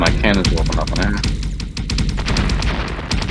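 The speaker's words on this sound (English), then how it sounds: "Hoping my cannons will open up on him." Rapid, heavy cannon fire thuds in quick repeated bursts during an alien-hunting video game battle, loud and close, with game effects and talk mixed over the barrage.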